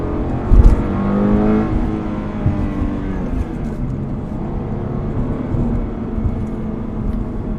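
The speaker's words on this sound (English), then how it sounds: "you can go first, second, third, fourth, just all the way on it. Downshift." Subaru BRZ engine pulling hard from inside the car as it runs up through the gears, a steady droning rev with rising pitch sweeps, near and fairly loud, without talk.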